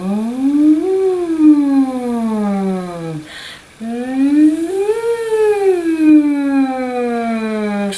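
A voice imitates a siren through a straw, buzzing a smooth rising and falling wail twice with a short pause between.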